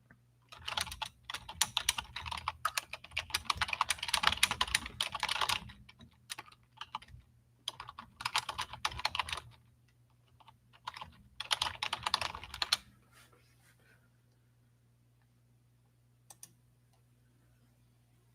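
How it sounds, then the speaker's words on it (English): Fingers type on a computer keyboard in quick, close clicking bursts separated by short pauses, fading into near silence after the last few keystrokes, with a faint steady hum underneath. "let me just type my prompt here"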